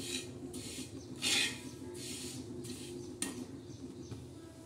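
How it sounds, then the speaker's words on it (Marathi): Sesame seeds being dry roasted in a pan and stirred with a utensil, giving soft rhythmic scraping and rustling over a low steady background hum, close but quiet, with no voices. "तीळ असे चांगले खरपूस भाजून घ्यायचे."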